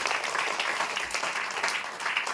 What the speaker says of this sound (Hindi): एक बार महान काम के लिए ताली बजाएंगे।